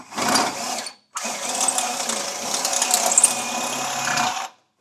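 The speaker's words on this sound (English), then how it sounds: "I'm using roughly about a 1/2 inch drill bit, basically a little bit larger than the bolt will be fine." A drill with a 1/2 inch bit enlarges a bolt hole in the frame of a 2018 Jeep JK Wrangler, giving a close, loud whine in two bursts: a short one, a pause, then a longer steady run.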